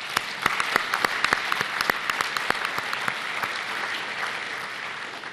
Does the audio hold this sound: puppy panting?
no